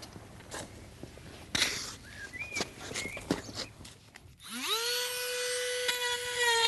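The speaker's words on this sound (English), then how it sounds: "any other irregularities in the hoof I will use the Dremel also to clean out" A Dremel rotary tool cleans out irregularities in a horse hoof during a shoe fitting: scattered scuffs and clicks give way to a close, steady high-pitched whine that spins up and holds.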